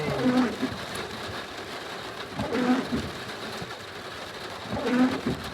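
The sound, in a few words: rain while driving a car in the dark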